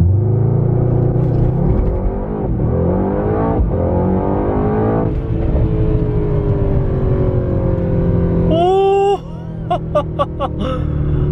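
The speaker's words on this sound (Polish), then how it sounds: "Korzystając z tego, że jestem na zamkniętej drodze, zobaczmy przyspieszenie na launchu." A Mercedes-AMG GT63s with a 640-horsepower twin-turbo 4-litre engine doing a launch-start acceleration on a closed road: loud, close engine roar climbing through rising revs and several gear changes, ending in a quieter stretch with brief clicks and a short laugh.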